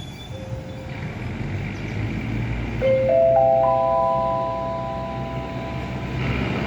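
Local train 427 pulls away from Buriram station in Thailand, with a low steady rumble under a series of staggered sustained horn-like tones stacking up mid-clip, alongside ambient platform noise.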